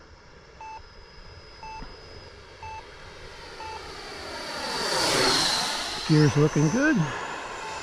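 An FMS F-86 RC model jet makes a quick flyby, its turbine-like whine swelling to a peak and sweeping down as it passes, while short electronic beeps sound earlier and someone talks briefly near the end.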